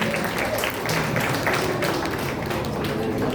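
Audience applause at an Independence Day celebration at an Arya Samaj hall: a steady, dense wash of clapping that holds at an even level for the whole stretch, with a faint murmur of voices mixed in.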